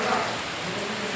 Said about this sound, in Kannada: ಈಗ ನೋಡಿ ಸಿಕ್ಕಾಪಟ್ಟೆ ಮಳೆ ಹೋಗ್ತಾ ಇದೆ